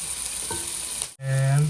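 Garlic and onion sizzle steadily in butter, a loud continuous frying hiss with a brief drop in the middle, then a brighter sizzle as more goes into the pan.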